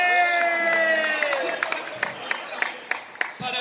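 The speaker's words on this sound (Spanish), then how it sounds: "Ese fuerte aplauso" Crowd at a Spanish peña event claps and cheers, a voice ringing out over the noise at first, then scattered sharp claps and shouts fading in and out at moderate distance.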